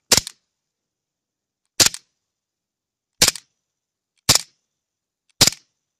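Five sharp, snappy shots from a KWC Beretta 92 airsoft pistol with a mechanical blowback clack, fired singly at uneven intervals with silence between them.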